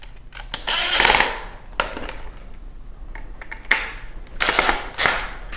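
Screws are tightened on the swing-away arm of a Quantum power chair, producing close scraping and ratcheting bursts of tool-on-metal noise in uneven clusters.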